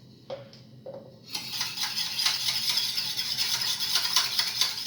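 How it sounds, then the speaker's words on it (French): A utensil stirs French toast batter of milk in a bowl, brief clinks at first then a continuous scraping, swishing rattle against the bowl, fairly close and steady with no talking. "On mélange bien."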